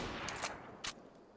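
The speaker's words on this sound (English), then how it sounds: "We're gonna shoot both shells at once." A shotgun fires both shells at once in the video game DayZ, giving short, sharp blasts that sound fairly faint and distant over a low background rumble.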